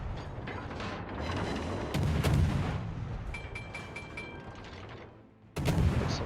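Heavy naval guns from an Akizuki destroyer in World of Warships boom in close, loud salvos over a continuous mechanical rumble, with metallic clanking between shots.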